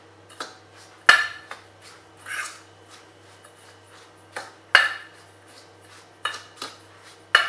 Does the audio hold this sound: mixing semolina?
yes